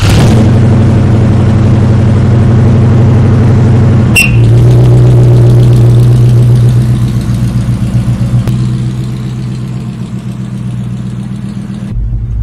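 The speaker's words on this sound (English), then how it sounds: "a 1972 AMC Javelin AMX, powered by a 401 cubic inch V8, producing 420 American horsepower" A 1972 AMC Javelin AMX with a 401 cubic inch V8 rumbling loudly at idle, with a sudden sharp burst partway through followed by a deeper, steady throb that eases slightly toward the end, close and dominant with no talk.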